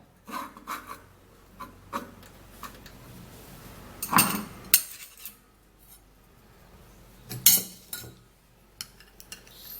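Ingredients being stirred into a hair oil mixture, close scraping and rubbing strokes in irregular bursts with a few louder clinks of a utensil against a container, no speech.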